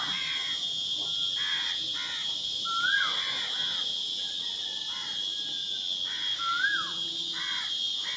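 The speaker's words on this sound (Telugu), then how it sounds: "పిచ్చుకులు కాకులు సౌండ్ చేస్తుంది ఎంత బాగా సౌండ్ చేస్తున్నాయి కదా" Crows caw repeatedly with short sparrow chirps in between, over a constant high insect buzz outdoors on a farm.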